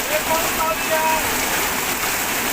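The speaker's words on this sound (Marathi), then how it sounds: "एवढा फास्ट पाऊस यायला लागलाय" Sudden heavy rain at night pours down in a constant loud wash of hiss, with brief faint tonal sounds and muffled voices at the start.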